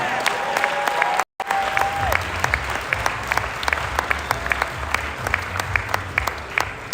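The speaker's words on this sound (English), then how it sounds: "one round of applause for Mat Bunga and his lovely wife" Wedding dinner guests applaud for the couple in a steady round of clapping, with a brief dropout early on and faint crowd murmur beneath.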